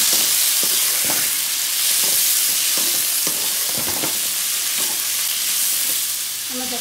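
Tomatoes sauté in a pan for a village-style fish curry, with a steady sizzle and scraping stirs that come at irregular intervals. It sounds close up and stays continuous, with no talk.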